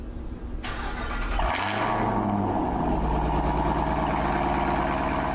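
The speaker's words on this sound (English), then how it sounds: "let me give you guys a cold start." A Dodge Durango Hellcat V8 with exhaust leaks fires up from cold, a starter crank bursting into a loud roaring flare that settles into a steady, rumbling high idle close by, with no talking.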